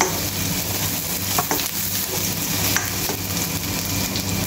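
Aromatics sauté for chicken-feet tinola, a steady close sizzle of oil in a pan broken by occasional scraping stirs and faint clinks, with no voices.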